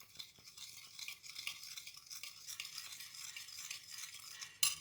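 Beetroot salad with oil is tossed in a bowl, giving a faint, wet, rustling swish with soft clicks, ending in a brief louder knock.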